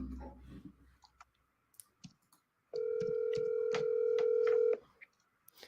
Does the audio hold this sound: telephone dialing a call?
yes